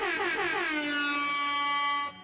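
A single sustained air horn sound effect blares loudly and alone for about two seconds, its rich harmonic tone sliding slightly downward at the start before holding steady and cutting off abruptly.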